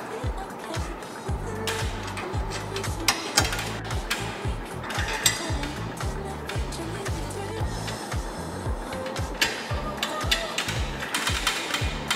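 A ratchet wrench tightening nuts and bolts while mounting a Trail Rax modular roof rack on a 2021 four-door Ford Bronco, a fast steady clicking run close by, under quiet talk.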